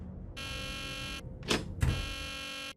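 An alarm in the video game Nancy Drew The Deadly Device blares as a loud electronic buzz in two long blasts, split by a brief gap with a short thud and whoosh.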